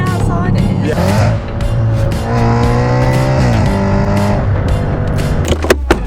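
A wrecked Audi RS5 fitted with a loud aftermarket exhaust drives on a road, its engine droning and rising in pitch under acceleration, close and loud, with sharp pops near the end.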